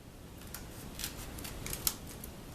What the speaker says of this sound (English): We're going to use some scissors.